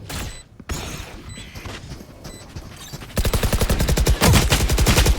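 Gunfire in a competitive video game match, with scattered single shots and mechanical clicks at first, then sustained rapid automatic bursts that grow louder and denser, close and sharp toward the end.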